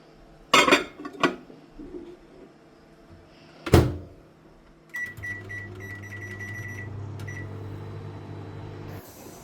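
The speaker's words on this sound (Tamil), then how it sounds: "ஸோ நான் மைக்ரோவேவில் ஹீட் பண்ணி எடுத்துப்பேன்." A microwave oven heats potatoes in a home kitchen, its steady low hum running for several seconds after a few sharp clunks of the door and dishes, with a faint high beep-like tone riding above it.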